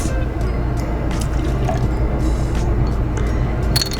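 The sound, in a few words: pouring fresh lemon juice into cocktail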